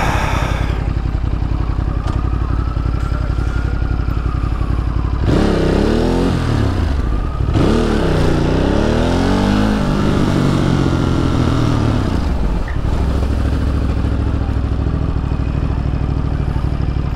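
A motorcycle rides through dense city traffic with the engine revving, rising and falling through several throttle surges. It sounds close and loud against constant road and traffic noise.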